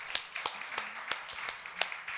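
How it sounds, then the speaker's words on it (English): A small audience claps at a DIY 360 talk, scattered sparse hand claps at low volume that sound more like a few people than a full room. "How about a big, warm round of applause for our prodigal daughter returned?"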